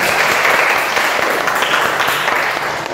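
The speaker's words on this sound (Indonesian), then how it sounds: "tepuk tangan untuk kita semua ya" A classroom of students claps together at the end of a civics lesson, dense and close-sounding applause that fades slightly near the end.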